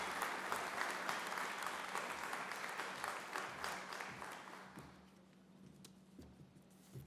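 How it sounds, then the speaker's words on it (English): A round of applause from an audience at a public event in the Bronx, steady clapping that gradually thins and fades toward the end, with a few scattered claps trailing off. "Please, a big round of applause for the founder of Loving the Bronx,"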